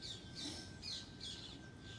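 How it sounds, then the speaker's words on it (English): Parrots calling in a noisy outdoor flock, with several bright squawks and chirps rising above a steady wash of background noise, fairly distant and continuous. "I hope you all can hear all these parrots"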